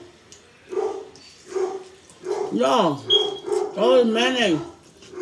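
Dog barking at a package delivery: a few single barks, then louder yelping and howl-like barks, close by and mixed with a person talking.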